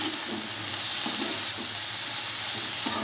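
Amaranth leaves fry in a home-cooking pan with a steady, close sizzle, soft crackle and occasional stirring scrapes, continuous and fairly loud with no voices.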